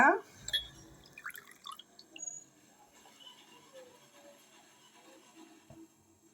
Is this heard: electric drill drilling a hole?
no